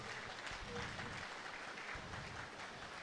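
Wedding guests at the reception for Adeline and Gédéon clap for the newlyweds, a short, fairly soft burst of applause from the room with a murmur of voices underneath.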